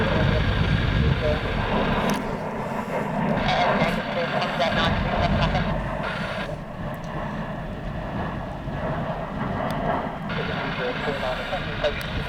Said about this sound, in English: EasyJet having to go around.